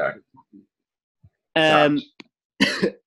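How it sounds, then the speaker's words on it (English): A couple of harsh, close coughs separated by a pause, with small throat noises between them. "if I do something that triggers a cough, I'm going to."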